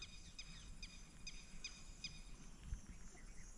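A bird repeatedly gives sharp, high chirps, about six evenly spaced calls, while its chicks wander in grass in green monsoon countryside; faint insects trill in the background.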